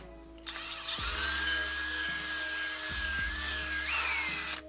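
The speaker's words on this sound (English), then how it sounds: "wiggle the drill around a bit if you want to make the holes slightly easier to get into." A power drill bores holes in a wooden box for a LARP prop. The motor whines steadily and loudly, close up, for several seconds, with slight changes in pitch as the bit bites into the wood.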